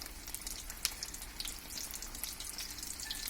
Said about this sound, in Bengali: এভাবে করে প্রত্যেকটা আলুর চপগুলো আমরা তেলের মধ্যে দিয়ে নিব।